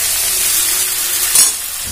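Potatoes frying uncovered in an open pan give a loud, steady sizzling hiss, with a brief brighter flare of spitting near the end and a soft knock just after.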